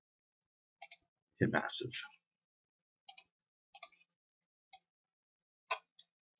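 Mouse clicks while inserting instruments in FL Studio: several crisp, separate clicks at irregular intervals, close and clear, with a short burst of a man's speech early on.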